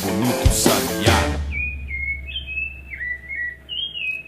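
A rufous-bellied thrush (sabiá) sings a clear, whistled phrase of several rising and falling notes, heard alone after a few loud opening sounds.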